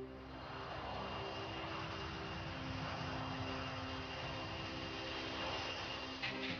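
An airliner departing for Paris drones steadily through a cabin, a faint, continuous engine hum with tonal whine that holds evenly throughout, no talk.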